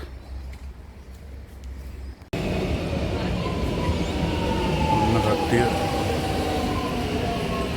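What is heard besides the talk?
train arriving at station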